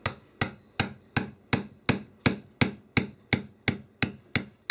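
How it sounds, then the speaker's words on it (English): Rhythmic metallic hammer strikes, about a dozen evenly spaced blows on a punch driving out an AR-15 gas tube, loud and close with short ringing decay. "let's knock that gas tube out. Got me a punch and a hammer."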